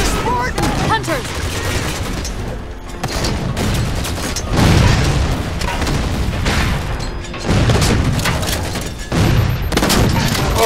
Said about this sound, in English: Oh, they're throwing grenades.